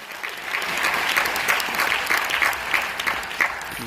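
Loud, steady applause fills a meeting hall in Motihari, Bihar, a crowd clapping continuously with sharp irregular peaks and no voices over it.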